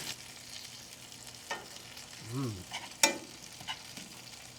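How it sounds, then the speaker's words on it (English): Steak basted with melted butter, garlic and thyme in a tilted pan, a constant low sizzle with spoon scrapes and a sharp clank, close and without talk. "Start basting that butter on there."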